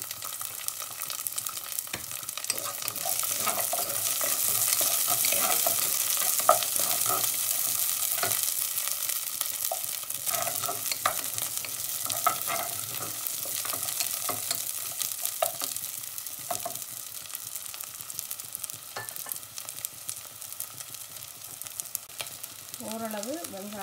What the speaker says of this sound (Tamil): இந்த ஸ்டேஜில் வெட்டி வச்சிருக்கிற சின்ன வெங்காயமும் உள்ளியும் போடுறேன்.